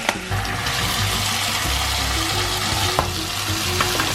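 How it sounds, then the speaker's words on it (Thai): Cucumber stir-frying in a pan with ready-made stir-fry sauce gives a steady, close sizzle with soft scraping stirs running throughout. "ก็จะผัดแตงกวานะคะ ให้เขานิ่มแล้วเราค่อยใส่ไข่ลงไปทีหลัง"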